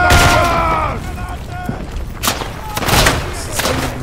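Muffled thuds and booming gunshot blasts in the World War I video game Isonzo, several in quick succession amid busy game noise.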